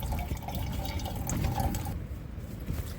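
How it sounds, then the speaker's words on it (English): Water is poured into a cup with instant coffee at a camp site, a steady close splashing and filling sound that runs for a couple of seconds, then thins out near the end. "Gotta put about a cup of water in there."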